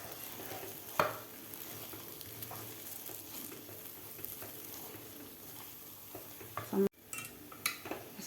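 A spoon scrapes and stirs mung dal halwa mixed with dry fruits, cashews, almonds and cardamom powder in a pan, soft sizzling under intermittent clinks and a sharp knock near the start and end.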